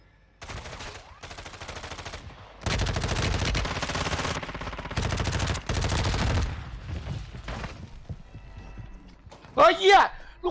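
Loud bursts of video game shotgun fire come in several separate volleys, with people talking and exclaiming between and over the shots.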